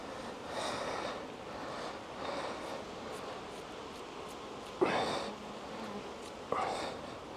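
Honey bees buzz around a frame lifted from a queenless hive of F1 Buckfast bees, a soft steady drone close by, broken by a couple of brief brushing or puffing sounds.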